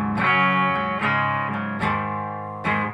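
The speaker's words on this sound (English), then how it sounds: "Here's the humbucker. You can hear these humbuckers are really, like, big, aggressive sounding humbuckers." An electric guitar through humbucker pickups gives a big, aggressive distorted tone, four strummed chords ringing out one after another, loud and alone.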